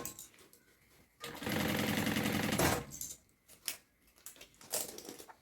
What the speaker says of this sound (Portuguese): E um pé de máquina, tá? Vou costurar toda a volta.